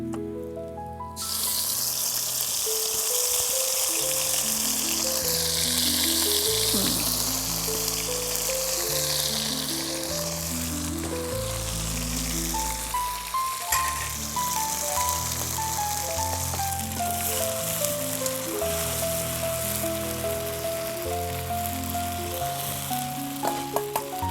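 A paste of ground ginger, garlic, onion and cumin hits hot oil and sizzles loudly, then keeps up a continuous hiss throughout with melodic music playing underneath.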